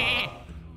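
A single sheep bleat from a game, short and bright, fading quickly into a low background hum.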